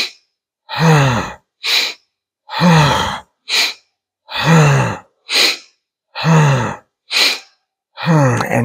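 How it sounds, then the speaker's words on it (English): Deep, audible breaths during a spinal flex breathwork exercise, with long inhales alternating with shorter sighing exhales in a steady, close, repeating rhythm. "breathing in and then exhaling"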